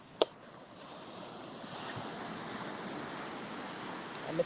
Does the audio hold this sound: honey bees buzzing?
no